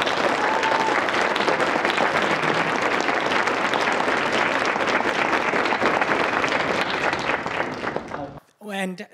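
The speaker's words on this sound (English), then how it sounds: "give Sharmeen another a round of applause" An audience applauds after a workshop on Islamic geometric patterns, with steady, dense clapping that fills the room for about eight seconds and then stops abruptly. A voice speaks briefly at the end.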